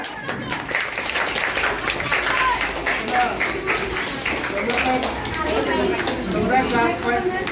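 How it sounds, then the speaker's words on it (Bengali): Fifth-grade students at a class farewell party clap together in a hall, a lively, uneven patter of applause mixed with crowd chatter and voices throughout. "স্যার বদরুল স্যার আমাদের এখন ফিতা কাটবেন, সবাই হাততালি দাও"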